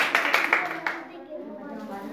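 Schoolchildren in a government school craft class clap for their classmates, a short burst of several claps at the start that fades under a voice speaking.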